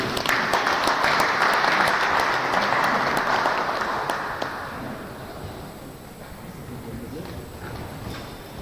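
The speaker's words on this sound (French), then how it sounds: "Vous pouvez applaudir." Audience applause at a French defence institute conference, a dense wash of clapping that swells loud for the first few seconds, then fades and thins out, with talk continuing beneath.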